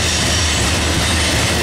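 Rear cars of a CSX manifest freight, Q693, led by a pair of ES44 locomotives, rumble past close by at Chestoa as a continuous loud rolling roar.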